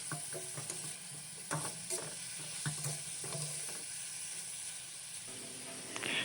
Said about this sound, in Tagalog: Haluin lang natin yan. Nilagay natin yung tirang marinade kanina.